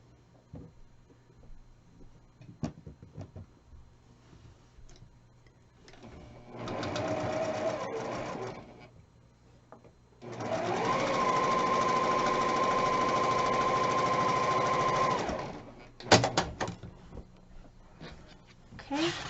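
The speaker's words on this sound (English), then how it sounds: "Take that and sew it. Again, sew right on the line." A sewing machine stitches a quilt block in two runs, a short burst and then a longer steady whir of about five seconds, with light handling noises and brief talk in the gaps.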